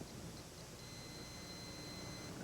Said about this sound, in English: my watch beeps, indicating it's receiving